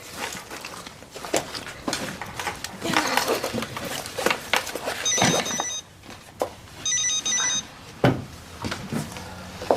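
Mobile phone rings in a domestic household scene, a bright electronic ringtone sounding in two short bursts among footsteps, rustling and movement.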